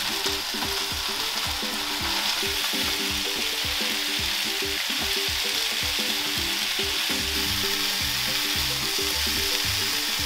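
Beef tongue fries in a pan of vegetable oil after softened ingredients, a steady loud sizzle with rhythmic stirring and scraping throughout, no voices.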